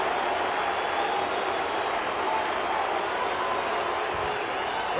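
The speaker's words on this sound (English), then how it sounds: "Now the crowd, everybody, standing." At Angel Stadium, a baseball crowd rises to its feet as the Angels close in on the American League West title against Texas, producing a sustained, even roar of cheering and applause.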